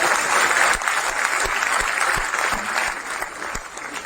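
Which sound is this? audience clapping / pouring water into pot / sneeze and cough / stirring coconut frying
audience clapping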